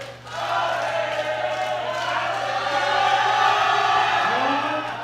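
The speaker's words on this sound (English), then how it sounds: "the support from the crowd is getting harder and harder to commentate over" A powerlifting championship crowd at a women's junior deadlift event cheers and roars in a loud, sustained swell that holds for several seconds, with a steady hum underneath.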